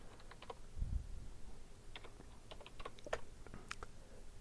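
Keystrokes on a computer keyboard clatter in short irregular bursts, close and fairly quiet, with a soft low bump near the start and no talking.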